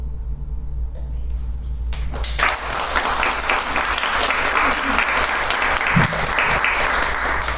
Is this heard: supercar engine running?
no